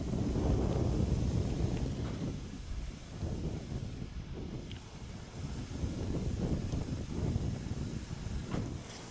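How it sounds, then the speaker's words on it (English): Strong wind blows outdoors by a railway line on a windy day, buffeting the microphone with steady low rumbling gusts that swell and ease throughout, with no voices. "on this windy Saturday."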